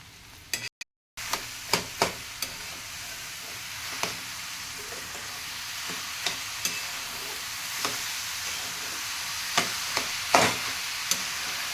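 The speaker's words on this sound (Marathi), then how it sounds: "हे तूप टाकल्यानंतर 10 ते 15 मिनटं आपण हे गाजर परतून घ्यायचं आहे." Grated carrots sautéing in ghee for gajar halwa, a steady soft sizzle and hiss with intermittent clicks and scrapes of stirring, continuous after a brief drop at the start, no talking.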